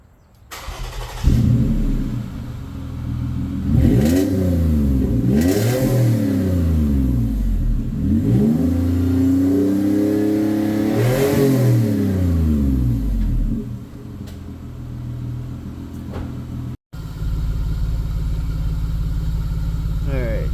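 A Toyota Highlander SUV engine with a straight-pipe exhaust to a resonated tip revs several times, rising and falling in pitch, then settles into a deep, rumbling idle.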